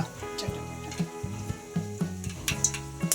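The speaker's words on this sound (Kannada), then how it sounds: "ಸಾಸಿವೆ ಚಟಪಟ ಕರಿಬೇವು ಚಟಪಟ" Mustard seeds and curry leaves spluttering in hot oil while tempering for a mixed vegetable sambar, a run of sharp crackling pops and sizzles at close range, irregular bursts with a faint metallic tick, no talking.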